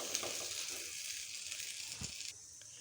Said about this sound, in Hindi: तो ये फ्राई हो रहे थे।